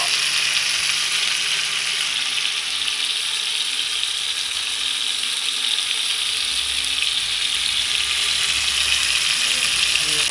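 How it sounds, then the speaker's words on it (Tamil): Four whole fish, kanangathi mackerel and mathi sardines, frying in hot oil, giving a dense, steady hiss that stays loud and even throughout with no pauses. "4மே நாங்கள் முன்னாடி முழுசாக ஃப்ரை பண்ணுறோம்."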